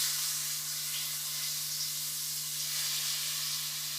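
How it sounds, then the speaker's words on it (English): Curry sizzles steadily in hot oil as it is stirred for Jamaican curry chicken, a close, continuous bright hiss with a faint low hum beneath. "I'm just stirring the curry inside the oil."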